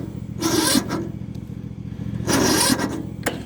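Two separate start attempts on a choked Yard Machines lawn mower: each is a roughly half-second scraping pull with a whir, close by. The engine does not catch, and a low steady hum continues between the attempts.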